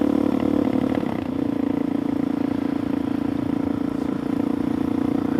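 A Suzuki DRZ 470 Stroker motorcycle engine runs steadily nearby with a throbbing, slightly uneven idle on a warm 80-degree day, with no talking.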